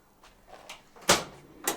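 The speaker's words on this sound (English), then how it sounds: "So rear barn doors," Rear barn doors on a Renault Trafic Sport Doublecab van being unlatched and swung open: a few soft clicks and handle sounds, then a sharp loud clunk of the latch releasing, followed by a second shorter clunk, close up.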